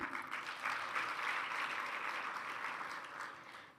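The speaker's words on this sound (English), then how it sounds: "would I please ask for another round of applause for them?" A youth-led intergenerational dialogue audience gives another round of applause after a dance performance: steady, fairly soft clapping from many hands that tapers off near the end.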